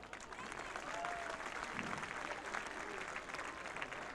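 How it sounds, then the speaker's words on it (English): A crowd at a high school varsity football game applauds a community honoree, sustained clapping and scattered cheers spreading across the stands from a moderate distance, with faint voices mixed in. "A round of applause, please, for Lee Dunlap."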